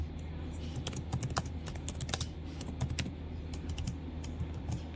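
Typing on a computer keyboard: quick, uneven bursts of close key clicks. A voice is heard softly under the clicking.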